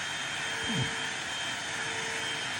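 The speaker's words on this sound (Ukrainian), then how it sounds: "Пилосос, так?" A vacuum cleaner drones steadily with a constant whining tone throughout. A brief low thump or sweep occurs near the start, and no speech is heard.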